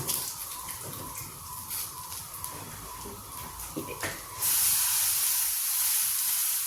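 Coriander stems tossed into a pan of roasted potatoes set off a sudden, steady hiss of sizzling that swells partway through after quieter kitchen sounds, close and fairly loud.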